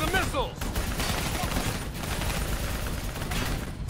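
Sustained automatic gunfire fills a Call of Duty: Black Ops 3 firefight as weapons target a VTOL aircraft, loud and continuous bursts with dense battle noise throughout.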